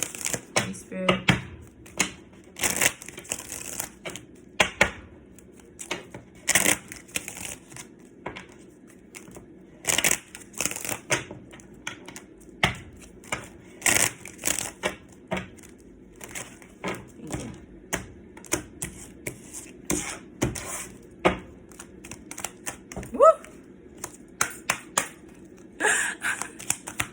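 Tarot cards being shuffled in repeated quick riffles with taps and shuffling sounds between them, near and clear, while a person speaks intermittently.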